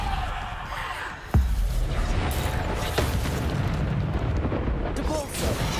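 A Bombarda spell explosion from the wizarding game Hogwarts Legacy: one sharp, booming blast bursts out, followed by rumbling combat noise and smaller impacts, with a voice speaking over it.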